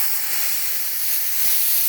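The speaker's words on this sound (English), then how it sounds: "So we're gonna relieve the pressure." Pressure released from a pressure pot used for casting Alumilite acrylic: a loud, steady hiss of escaping air that rises slightly toward the end and continues without a break, no voices.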